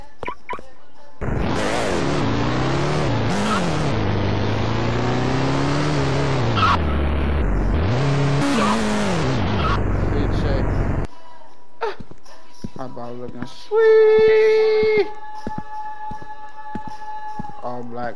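Black 2023 BMW driven in a Roblox game, a synthetic engine note rising and falling through gear changes for several seconds before cutting off, followed by scattered game effects and a player talking.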